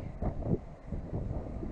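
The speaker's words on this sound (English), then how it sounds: "It's really windy." Strong wind gusting outdoors in snowy, near-freezing weather at night, a steady low rumble buffeting the microphone with swelling gusts throughout.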